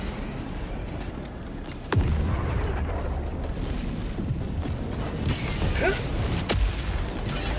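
A machine gun sentry deploys in Helldivers 2 on a bug planet, landing with a sharp mechanical thud and then a sustained rumbling, creaking mechanism, with another brief impact later.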